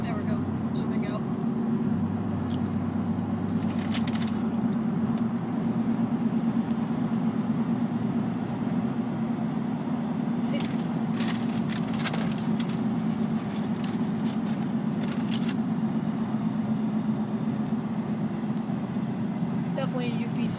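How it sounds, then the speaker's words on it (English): A Union Pacific freight train led by a GE Evolution-series locomotive rolls past on a track near Rosenberg, a steady heavy rumble under a sustained tone, with a person talking over it throughout. "Definitely a UPC train."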